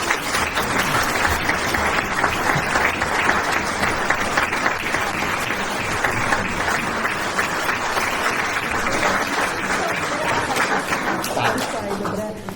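A theatre audience at an amateur village play applauds Mrs. Štovčíková in a dense, steady round of clapping that lasts throughout, with a few voices mixed in.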